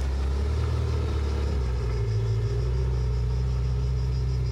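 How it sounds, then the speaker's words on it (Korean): A supercar's large engine rumbles loudly from inside the cabin during a short ride at a supercar museum in Italy, a steady deep drone with slight rises in revs. "거대한 엔진 소리가 나를 들뜨게 만들었다."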